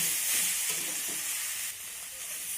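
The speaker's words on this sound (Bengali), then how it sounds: "ডিমটাকে এইভাবে ঝুড়ি করে ভেজে নেওয়ার পর সমস্ত সবজি একসঙ্গে নেড়ে করে নেবে" Vegetables stir-fried with scrambled egg in a hot pan make a dense, even hiss and sizzle, close and continuous for a few seconds.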